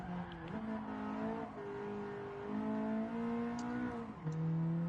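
Race car in the video game Gran Turismo 7, its engine holding high revs in shifting tones while the tyres slide and scrub through a corner, steady and moderately loud with no talk.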